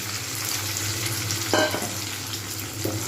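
Roasted pea-pod pulp fries in a pan with a steady, close hiss and sizzle throughout, broken by a couple of brief scraping stirs of a spatula against the pan.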